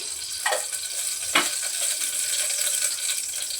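A little oil hits a heating pressure cooker in a kitchen, giving a close, steady frying hiss with a couple of brief sharper sizzle bursts early on.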